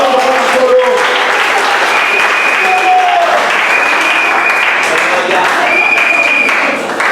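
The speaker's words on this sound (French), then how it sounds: "Applaudissez pour le Seigneur." A church congregation applauds during a sermon, steady dense clapping held for the whole stretch, with sung or sustained voice tones rising above it.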